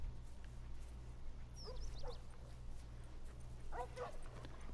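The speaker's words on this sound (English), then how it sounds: "Got our dogs over there." Dogs in the video game The Last of Us give two short bursts of barking at mid-distance, heard over a steady low game hum with no talk.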